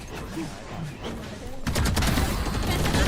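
Rapid gunfire bursts in the video game Valorant, a sparse shot or two at first, then a dense, loud stretch of sustained automatic fire, with a voice talking faintly underneath.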